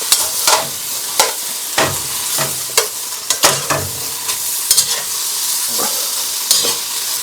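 King prawns and green beans stir-fry in a hot wok, a continuous sizzle broken by repeated sharp scrapes and tosses of the spatula at an uneven rhythm, close and loud.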